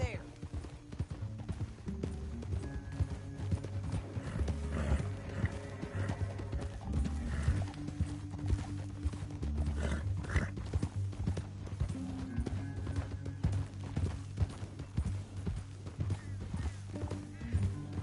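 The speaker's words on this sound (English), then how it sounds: "get off your horse" Horses clip-clop along at a steady gait in a Red Dead Redemption 2 canyon ride, hoofbeats mid-distance under constant background music, with an occasional whinny rising above the rhythm.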